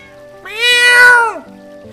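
A single drawn-out cat meow from Final Fantasy IX, loud and close, rising and then falling over about a second against a quiet background.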